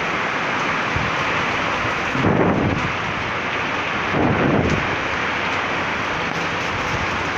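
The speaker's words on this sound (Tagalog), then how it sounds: "Lakas ng ulan pa rin," Heavy typhoon rain in Pasig, Metro Manila roars loudly and steadily, with two brief swells of gusting wind buffeting the microphone, no voices.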